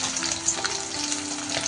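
Potatoes frying in oil in a pan, a dense, steady hiss and crackle that stays close and even throughout, with no voices over it.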